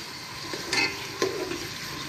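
Steady hiss of onions frying in hot oil, with a couple of brief louder bursts as something is added or stirred.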